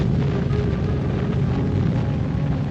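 A massive nuclear detonation rumbles as a sustained, dense roar from the Trinity bomb test in the desert, loud and continuous with deep low-end boom throughout.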